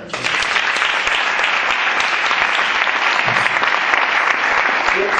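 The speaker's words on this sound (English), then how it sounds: "A big round of applause for Eric." Steady, dense applause from an audience greeting a man named Eric, sustained and loud throughout with no break or fade.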